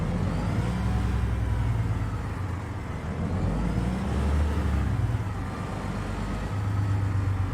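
A truck engine in American Truck Simulator pulling away in automatic drive, a steady low rumble that swells and eases in gentle waves as it gets underway, continuous and fairly close.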